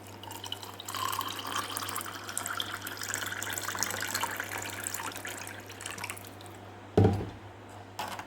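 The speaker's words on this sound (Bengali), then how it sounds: "দইটা ফ্যাটানো হয়ে গেছে এবার এর মধ্যে দিয়ে দেবো জল" Water is poured into whisked yogurt to make lassi, producing a steady close pouring and filling sound for several seconds, followed by a short clunk and then quiet.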